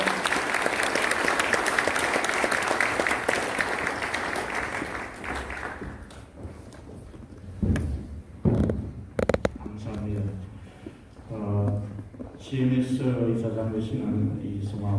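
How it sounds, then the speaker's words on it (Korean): Hearty applause from the audience at a Korean church presbytery general assembly, loud and dense for about six seconds before dying away, after which someone speaks over a quieter hall. "우리 두 분이 90도로 인사하는 한번 뜨거운 박수를 쳐서 축사를 하겠습니다"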